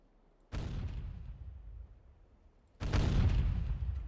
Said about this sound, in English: Sent the first salvo of 3 shells as a bit of a test